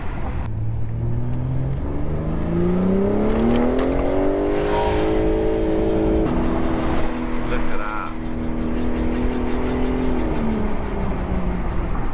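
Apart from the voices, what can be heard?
sports car exhaust and induction noise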